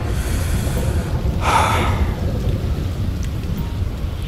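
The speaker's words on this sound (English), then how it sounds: "I know it's raining" Steady, loud rain hisses in the GTA 5 video game while a brief roll of thunder swells near the middle, then the downpour carries on alone.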